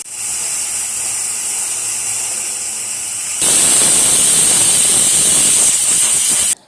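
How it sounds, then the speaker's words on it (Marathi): A pressure cooker holding tomatoes cooked without added water hisses steadily and loudly, then breaks into a sharper, louder whistling blast before stopping abruptly, with no voices. "आता झाकण लावून तीन शिट्या करून घ्यायच्या आहेत"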